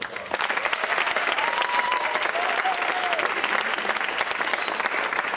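Sustained applause from a crowd at the 2023 South St. Paul homecoming coronation, honoring the homecoming candidates; steady, dense clapping fills the hall throughout with a few whistles or cheers.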